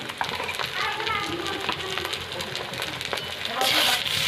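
Cumin paste masala frying in a pan while being stirred: a continuous close sizzle with repeated scraping strokes that grows a little louder toward the end.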